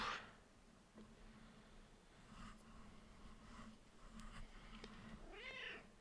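A domestic cat meows faintly indoors, one short mew at the start and a drawn-out meow near the end, set in a quiet room with low background hum and small rustling noises.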